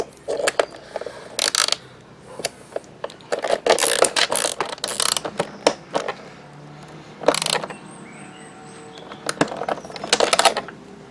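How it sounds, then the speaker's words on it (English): Bolts being tightened on an R&G tail tidy fitted to a 2015 Honda CBR1000RR Fireblade, quick ratchet clicks in short irregular bursts with pauses, close and distinct, no speech. "tighten up the bolts in here"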